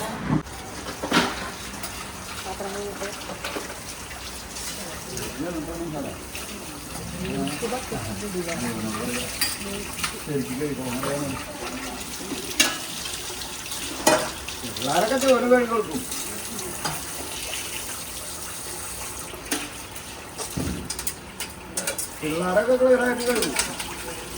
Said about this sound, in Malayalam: നമ്മൾ പാത്രം കഴുകട്ടെ